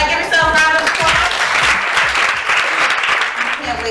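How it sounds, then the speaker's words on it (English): An audience at a Brooklyn hair-themed talk show breaks into dense clapping and cheers, loud and continuous, with a few tonal voice whoops mixed in before it thins toward the end. "give yourself a round of applause."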